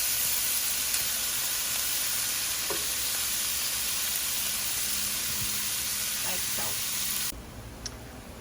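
Shrimp cooking in an even layer in a pan for pesto pasta, a loud continuous broadband sizzle close by with a few faint clicks, dropping sharply in the last second.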